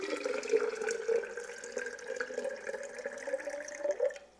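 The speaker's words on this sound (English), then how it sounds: "I'm going to go ahead and put my water in" Water poured from a measuring container into coffee grounds for homemade cold brew, a steady close trickling and splashing stream with a slightly rising tone, ending abruptly near the end.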